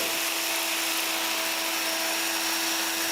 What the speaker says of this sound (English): I'm going to just do some sanding now with this cushy sanding system that follows nicely along in the contour of the bowl